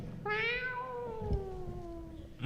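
A person imitates a cat meow, a single drawn-out, falling, nasal mew lasting about two seconds, close and clear with no other talk.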